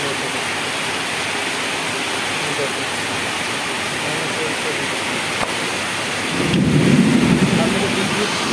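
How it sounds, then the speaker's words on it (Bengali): Steady roar of heavy rain with a low rumble of thunder rolling in near the end, broadband and continuous, no voices. "তার সাথে বিদ্যুৎ চমকাচ্ছে, আকাশও ডাকছে, তার সাথে একটু হাওয়াও চলছে।"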